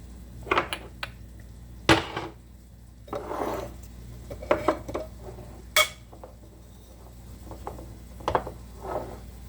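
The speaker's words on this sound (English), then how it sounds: "I'm going to put them in gradually and give it a little stir." Potatoes seasoned with oregano, bay leaf and pepper are stirred in a sauté pan, giving quiet, scattered scrapes and light clinks of a utensil against the pan.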